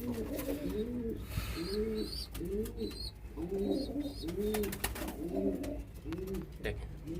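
Pigeons kept in a loft coo in a steady run of soft, rounded, repeated calls, some close and some layered behind, with faint chirps and rustling between them.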